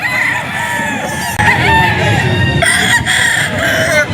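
A rooster crows loudly and close at a pet market, its drawn-out strained call repeating over a busy background of other fowl clucking and noise.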